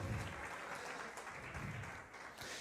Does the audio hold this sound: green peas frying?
no